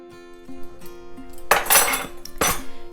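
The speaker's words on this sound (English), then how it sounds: "And I just mix that together" Salt and ground cinnamon are mixed in a bowl, giving scattered light clinks of a utensil against the dish, then two louder scraping, rattling bursts close by.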